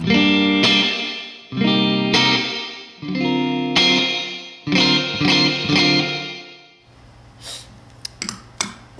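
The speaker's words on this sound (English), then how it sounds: "Here is the the reverb level all the way up on room reverb." Guitar chords played through a Boss RV-5 digital reverb pedal on the room setting with the reverb level at maximum, each strum ringing out with a lush, washy tail before a few quieter plucks and taps at the end.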